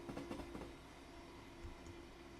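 Running sounds of a Class 700 Desiro City train in Train Simulator on the East Coast Main Line: a quiet, steady rolling hum with a brief cluster of wheel clacks at the start.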